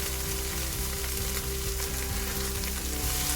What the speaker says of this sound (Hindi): इन सारी चीज़ों को हल्का सा फ्राई कर लेंगे